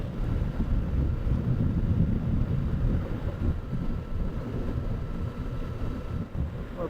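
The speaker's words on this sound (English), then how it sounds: "Given the amount of wind noise I hear through my earplugs, I don't think this windshield is making a huge amount of difference." Steady low wind rush roars past a rider behind a motorcycle windshield on a long-distance highway trip, a dense continuous buffeting with no talking.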